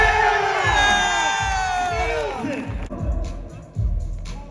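A crowd cheers and whoops loudly at a pro flatland BMX jam, a sustained roar of many voices that eases off toward the end, with an announcer's voice over it.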